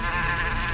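Bees swarming around a beehive, a dense continuous buzzing drone that stays loud and steady throughout with no pauses.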